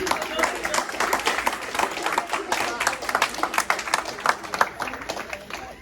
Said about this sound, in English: Let's give David a round of applause, please